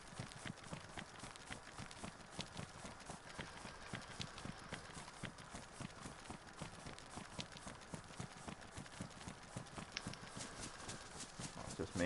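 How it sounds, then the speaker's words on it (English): Rapid, steady footsteps in the DayZ video game run continuously across the clip at a close, even level, with a faint background wash behind them. "I hear footsteps"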